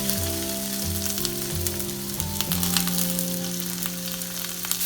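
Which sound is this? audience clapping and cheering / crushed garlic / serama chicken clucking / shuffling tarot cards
crushed garlic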